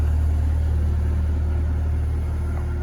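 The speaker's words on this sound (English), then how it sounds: "That's my son driving that Bobcat." Bobcat skid steer engine running at a steady idle nearby, a loud, continuous low rumble with no pauses and no voices.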